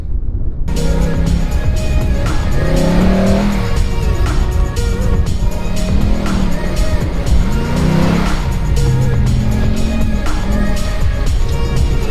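Loud car engine revs hard and climbs in pitch as the vehicle launches up a sand dune, with repeated surging revs and wind roar throughout, recorded close and continuous.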